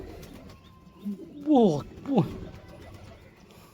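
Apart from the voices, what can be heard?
large pigeon cooing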